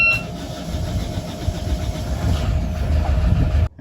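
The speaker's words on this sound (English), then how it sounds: "I'm just going to turn on the engine for a very short time just to warm up the oil" A sailboat's inboard engine cranks and fires, then settles into a loud, steady low rumble close by for a few seconds before cutting off abruptly.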